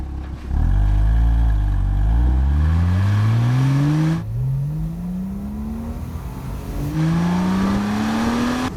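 High-mileage Porsche Boxster 987 with a five-speed manual gearbox, engine revving up through the gears in repeated rising pulls, loud and close, each climb broken by a brief dip at the shift.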